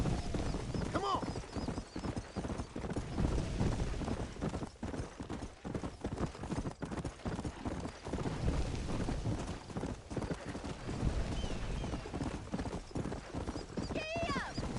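Horse hooves clip-clopping at a steady trot in Red Dead Redemption, with occasional whinnies and a rider urging the horse on, continuous and fairly close throughout.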